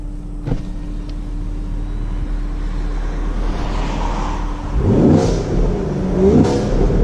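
A 2018 Chevrolet Camaro SS with its exhaust set to soft mode idles with a low steady rumble, then two short throttle blips swell the engine note before it settles again.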